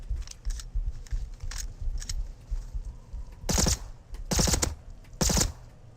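In the video game Rust, a firearm empties a whole magazine into a bear: rapid trains of close, sharp shots come in several bursts, the last few the loudest and densest.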